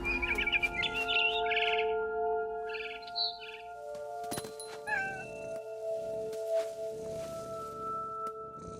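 Cat meows and caterwauls in the video game What Remains of Edith Finch, mixed with bird chirps over steady game music, short tonal calls repeating throughout at moderate level.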